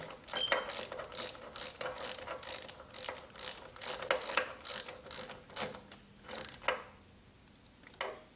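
Ratchet wrench snugging the top bolt of a plastic diverter (blow-off) valve on a Nissan Juke, giving a quiet, close run of rapid clicking strokes with brief pauses between them.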